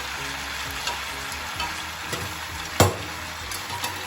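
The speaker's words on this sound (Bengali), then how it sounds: "নিচের আনাজগুলোকে উপরে তুলে এনে যে শাকটা উপর থেকে দিলাম, সেই শাকটা ভালো করে মিশিয়ে দেবো" Greens and mixed vegetables stirred in a pan give a steady sizzle with scraping spatula strokes and occasional clacks, one sharper knock standing out.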